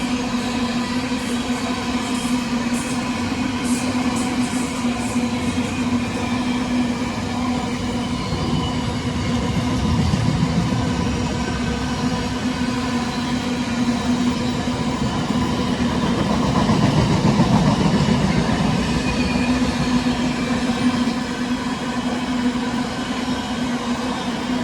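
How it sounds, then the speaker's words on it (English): A freight train hauled by locomotive 66528 rumbles past at close range, a long, continuous roar of rolling wagons with a low steady drone and faint squeals, no talking. "First of all, we've got a freight train for you guys."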